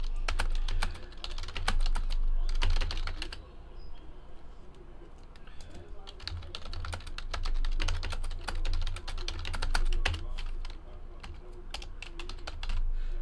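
Names are typed on a computer keyboard in rapid bursts of clicking keys that continue throughout, with pauses between words and faint cooing birds in the background.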